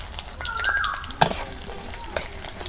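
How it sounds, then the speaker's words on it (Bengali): Chopped onions drop into hot oil in a clay pot over a village fire and fry with a steady, close crackling sizzle, marked by a couple of sharp clinks of a utensil and a brief whistle-like tone early on. "তেল আমার গরম হয়েছে, আমি পেঁয়াজ কুচি।"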